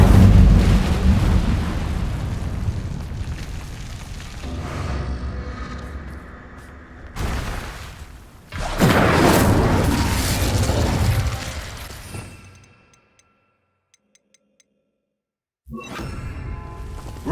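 Incendio spell in Hogwarts Legacy: a loud whooshing fiery burst with roaring flame and rumbling blasts, swelling and fading over several seconds before dropping to near silence, then a brief return of noise.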